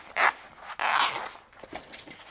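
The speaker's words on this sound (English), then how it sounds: "We're going to open out the zipper tape completely." A bag's zipper tape is pulled open on a sewing project, giving two rasping zips, one short and one longer, followed by a few faint ticking catches, close and clear.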